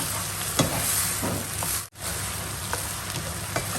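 Thai eggplant stir-frying in a pan for chicken curry, a steady close sizzle with occasional light clinks of a spatula, broken by a brief drop in sound midway.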